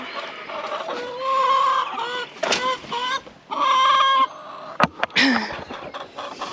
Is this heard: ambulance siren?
no